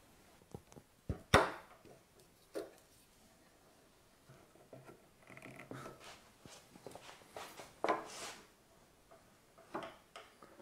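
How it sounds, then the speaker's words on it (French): Intermittent sharp taps and scraping cuts of a wood chisel working a wooden door joint with a jig, irregular knocks and brief shaving sounds spaced over quiet gaps. "Et au ciseau à bois, en s'aidant de notre gabarit."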